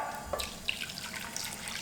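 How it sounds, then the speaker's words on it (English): Water pouring steadily from a tap into a pot of vegan Korean rice cakes for spicy tteokbokki, a close, continuous splashing and trickling stream with small gurgles and no talking. "Okay, you're gonna add water."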